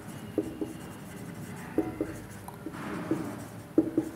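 Chalk taps and scratches against a classroom board in short, irregular clusters, faint and close, as an answer is written out during a Class 10 math lesson.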